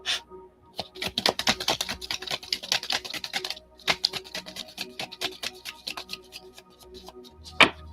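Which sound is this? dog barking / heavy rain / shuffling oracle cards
shuffling oracle cards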